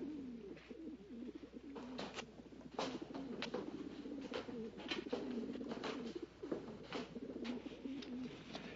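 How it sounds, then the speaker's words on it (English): Pigeons cooing in repeated soft throaty calls, steady and moderately close, in a quiet scene from an old radio thriller, with no voices over them. "It's those pigeons."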